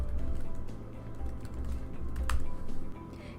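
Typing on a computer keyboard while entering website login credentials, a run of quick, fairly faint key clicks over steady low background hum, with no talking.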